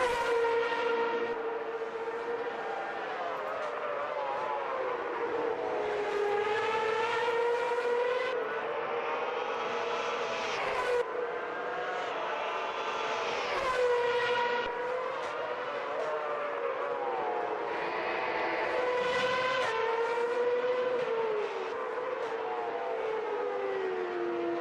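Race car engines in Automobilista 2 wail loudly and continuously, the pitch climbing and falling through gear changes as cars pass in a replay, with no talk over them.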